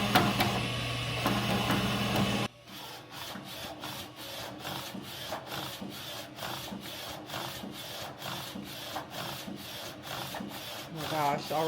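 A DTF 1200 desktop direct-to-film printer with two printheads runs a test print from its roll feeder. After a louder opening stretch it settles into a steady, rapid series of regular mechanical passes, close and continuous.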